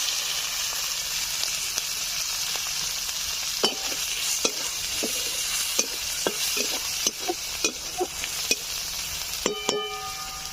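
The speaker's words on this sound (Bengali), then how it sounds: "এখন দিয়ে দিচ্ছি পেঁয়াজ কুচি।" Chopped onion drops into hot oil in a wok already holding dried red chillies and whole cumin: a steady, close hiss of frying runs throughout, punctuated by sharp spatula clicks and taps against the metal.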